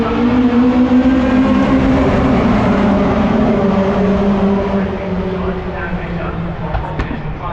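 Pickup racing trucks at a circuit during the first round of the 2022 season, with a loud continuous engine roar of several vehicles close by that eases slightly toward the end.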